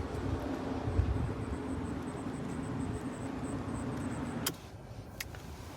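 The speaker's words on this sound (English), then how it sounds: "Guess I'm gonna drive back on that bumpy road" A car drives along a bumpy road, heard as a steady, close, rumbling interior road noise that drops away abruptly near the end, with no talking.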